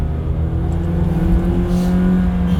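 A car engine idles and revs steadily up close, a continuous low rumble with slight swells, heard from nearby inside or beside another vehicle.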